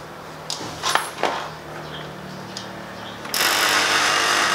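An air conditioner compressor is switched on during freon recovery: a few clicks and knocks are heard before it kicks in with a sudden loud steady hum near the end.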